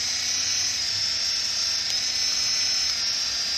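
Bitrontix electric foot care wand running steadily, a constant high-pitched whine with no pauses, close and clear.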